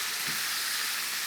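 Liver and garlic frying in a pan give a steady, bright, close sizzle with a faint stirring scrape, heard alone with no talking.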